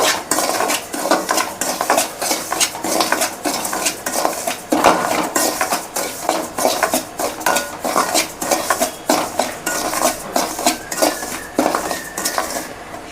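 Semolina roasting in ghee in a pan, with a utensil stirring and scraping in a steady, repetitive rhythm of metallic clinks and scrapes, close and fairly loud, no talking.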